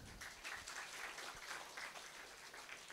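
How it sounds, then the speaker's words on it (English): Steady round of applause from an audience at a medical talk on antibiotic resistance, faint and distant, dense clapping sustained for a few seconds without voices. "I think a big round of applause."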